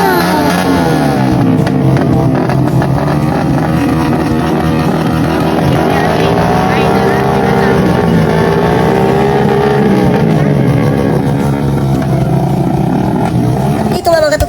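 A loud motorcycle engine revs repeatedly on a flooded street, its pitch sweeping up and down in bursts, with voices and crowd noise mixed underneath throughout.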